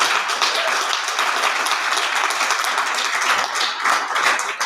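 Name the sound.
audience applause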